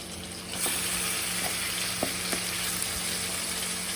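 Marinated mutton pieces drop into a pan of golden brown fried onions for a Sunday mutton curry, giving a steady close sizzle with a few sharp clinks of the spoon.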